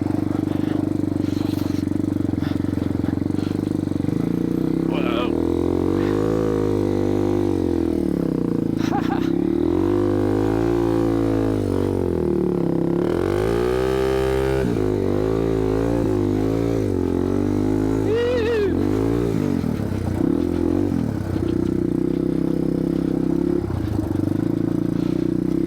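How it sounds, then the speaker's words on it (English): A 1987 Yamaha TW200 motorcycle rides over hard-packed snow, its single-cylinder engine droning close by with rising and falling revs as the rider throttles, and faint scraping and clatter mixed in. "I love riding in this hard snow. Makes it so much easier riding the T-dubs."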